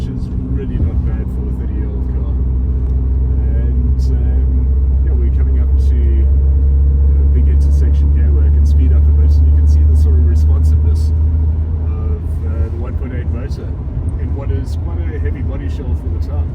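Steady low engine and road rumble inside the cabin of a 1994 Mercedes W202 C180 with manual gearbox while driving, a continuous drone throughout with a person talking over it.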